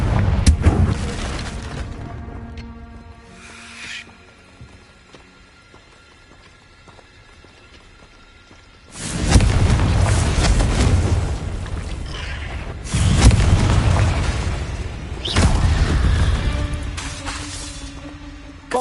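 Fiery Confringo blasts from Hogwarts Legacy burst out in loud, broadband booms, a quieter cast early on, then three heavy explosions with rumbling tails in close succession, no talk over them.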